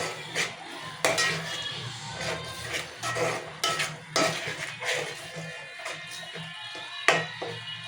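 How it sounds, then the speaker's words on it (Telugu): Salt being mixed into a fish curry mixture in a pot, heard as close utensil clanks and scrapes against the pot in an uneven rhythm of sharp knocks, with no talking. "సాల్ట్ 2 చెంచాలు సాల్ట్ వేసి మంచిగా కలపాలి."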